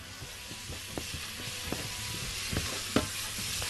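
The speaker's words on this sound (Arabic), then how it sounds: "البصل والزبده بنبدا ان احنا نحطها كده اهوت، وايه ونشوحها كويس جدا" Onions and butter sizzle while being sautéed in a pan, giving a steady, quiet hiss with occasional sharper pops and scraping stirs. No one speaks over it.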